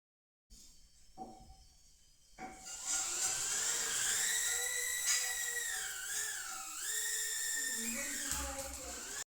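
An FPV drone's motors buzz in a shrill, whining drone that rises and falls in pitch as it flies close by, after a brief quieter start.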